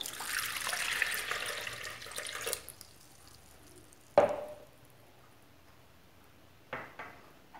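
Water, 460 ml, poured into the bowl of a planetary mixer for bread dough, a splashing pour for about two and a half seconds followed by a sharp clunk and a later softer knock, close up.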